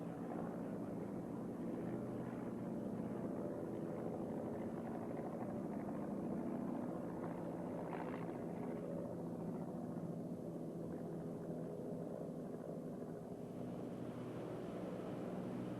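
Maule taildragger light aircraft at the 1992 Avalon Australian International Air Show, a faint, steady distant propeller drone blending with wind and open-air ambience, unbroken throughout.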